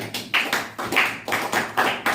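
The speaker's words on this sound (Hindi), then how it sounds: "ताली बजाओ बाकी लोग" A classroom of students clapping hands together in a Hindi-medium maths coaching class, loud close claps landing in a regular beat of about two per second.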